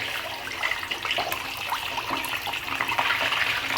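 Fish pieces fry in hot oil, giving off a close, continuous crackling sizzle that stays fairly even throughout with no voices.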